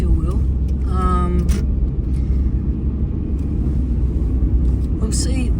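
A car travelling along the road on a country drive to York, with steady low engine and tyre rumble throughout and occasional brief higher whines passing over it.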